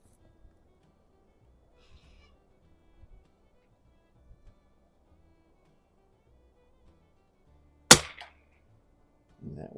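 A single sharp, loud crack from a Savage 19 NRA rifle at the range cuts through near silence with faint handling clicks, followed by a brief rustle at the end.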